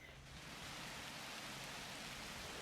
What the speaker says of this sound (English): put a rain cloud over the lake.